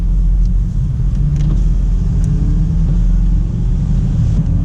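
A BMW with an SMG 3 transmission pulls away, its engine a steady low rumble that swells slightly as the car gets moving, heard from inside with no talking.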